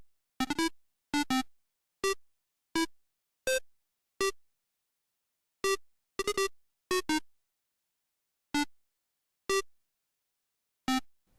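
A signature melody from the Mario Paint video game, played as short, bright, clipped chiptune-like notes in a halting, uneven rhythm with clear silent gaps between them.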